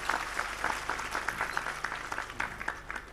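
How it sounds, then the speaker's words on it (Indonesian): An audience claps for a newly appointed regional police chief at a religious gathering, a dense, steady applause of many hands, fairly loud and continuous throughout with a faint voice underneath. "Tepuk tangan untuk Pak Kapolda."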